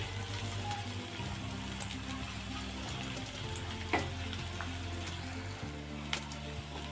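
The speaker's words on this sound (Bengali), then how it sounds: "পেঁয়াজগুলো একটু ভাজা ভাজা হয়ে আসলে তারপরে রসুন বাটাটা দিয়ে দেব" Onions frying in a pan give a steady, close sizzle that continues throughout, with occasional small pops and clicks.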